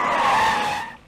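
Car tires squeal in one loud, close skid as the car pulls in to park, then fade out over about a second.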